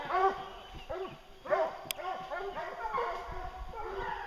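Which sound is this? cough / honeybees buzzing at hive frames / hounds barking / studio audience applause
hounds barking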